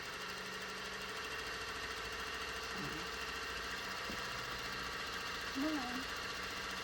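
A JIN NA-11UT Juki industrial sewing machine runs steadily as its oil dome fills, giving a continuous mechanical hum and rapid rattle, with a short spoken remark near the start and a brief squeak later.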